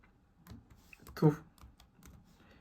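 Typing on a computer keyboard while filling in a scholarship application form, a few scattered key clicks with one louder burst of taps in the middle, quiet room.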